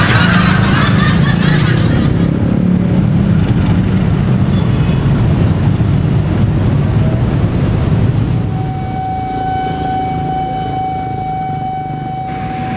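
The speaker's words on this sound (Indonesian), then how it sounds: "Nah, ini baru kereta api jomblo. Lokomotif CC206 jomblo." A lone CC206 diesel locomotive with no carriages passes a level crossing at Bungur, a loud sustained rumble that fades after about eight seconds, leaving a steady whistle-like tone and a quieter background.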